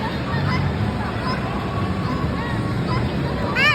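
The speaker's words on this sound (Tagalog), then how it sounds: "Guinea fowl." Guinea fowl on a farm calling in harsh, honking cries amid a noisy crowd, with a burst of rapid calls near the end over steady background chatter.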